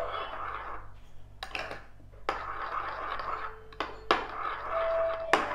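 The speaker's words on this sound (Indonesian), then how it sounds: "Oke, kita aduk-aduk dulu." A spoon scrapes and clinks around a bowl of pale purple cheesecake batter, with a few sharp metallic taps on the rim between softer swirling strokes, close up and with no talking.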